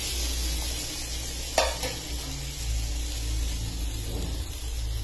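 A kulcha cooks on a hot tawa with a steady, close sizzle and crackle, broken by one brief clatter as it is flipped and a softer scrape later.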